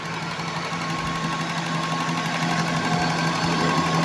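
A 2002 Toyota Soluna GLi engine idles steadily, a dense even mechanical hum with a faint rhythmic tick, constant and fairly loud throughout with no voices.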